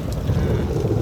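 Strong storm wind gusting over the Padma river at night while aboard a boat, a steady, loud rumbling roar with buffeting against the microphone and no break throughout.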